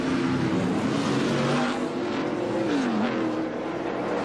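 NASCAR Winston Cup race car pulling off pit road after a four-tire stop at Atlanta Motor Speedway, a loud steady engine drone with a shifting pitch under the broad crowd and track roar.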